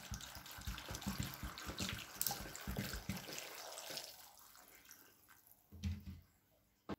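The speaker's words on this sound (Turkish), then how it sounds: "zeytinimi 3-4 su yıkıyorum" Water splashes and gurgles over green olives being washed in several changes of water, a busy rush that thins to scattered drips and a soft knock near the end.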